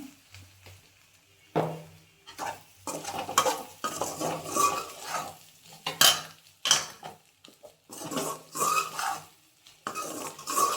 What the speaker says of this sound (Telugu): కారం, ధనియాల పొడి వేసుకున్న తర్వాత బాగా కలుపుకోండి